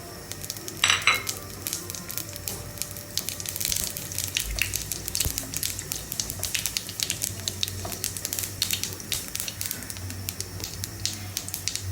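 Panch phoron spices fry in hot fish oil in a pan, giving a soft, steady sizzle with quick crackles and spits and one sharper pop early on.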